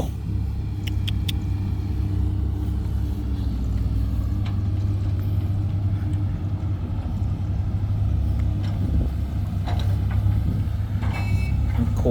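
New truck being driven on a rural farm job site in Khon Kaen, Thailand: a steady low engine rumble runs continuously throughout, with faint intermittent clicks and beeps above it.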